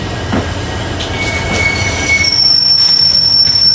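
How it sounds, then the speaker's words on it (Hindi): A train pulled by locomotives rolls into Castle Rock railway station in foggy conditions, its wheels squealing loudly and steadily against the rails over a constant rumble of the wagons. "यहाँ पे जो हमारी ट्रेन है वो फाइनली पहुँच चुकी है कैसल रॉक रेलवे स्टेशन पर"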